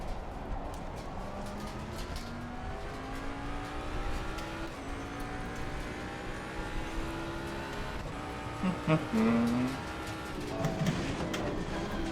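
A race car in Assetto Corsa Competizione revs and shifts through gears, engine pitch climbing in steps, then braking hard and downshifting with sharp blips into a turn, loud and close.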